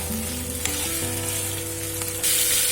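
Stew sizzles and fries steadily in a pan while it is gently turned over, with soft stirring scrapes and a brief louder burst of sizzle near the end.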